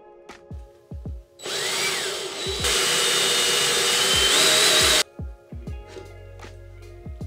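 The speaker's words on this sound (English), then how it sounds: "And then I drilled a hole into the body cap of my Sony a6400 and glued the lens in place." A power drill bores a hole into a Sony a6400 camera body cap, whining loudly for several seconds with a pitch shift midway, between short clicks and taps before and after.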